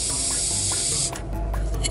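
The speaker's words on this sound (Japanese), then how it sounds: "ちょっと斜めになると空気が漏れる。" Air hissing from a leaking air suspension gauge fitting on a 1947 Plymouth lowrider: a steady close, loud spraying hiss that continues through the whole short stretch with faint knocks beneath it.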